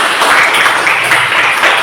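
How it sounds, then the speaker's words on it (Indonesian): A classroom full of students clapping together, a steady dense patter of applause that holds loud and even throughout. "Tepuk tangan dulu semuanya."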